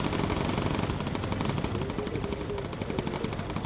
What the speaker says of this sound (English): we'll get some focus fire with incendiary ammunition in just a moment